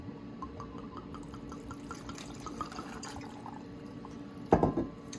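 Two ounces of vodka poured for a sour apple cosmo cocktail, a faint trickling pour with soft drips, ending in a brief louder clink or splash near the end, with no talk.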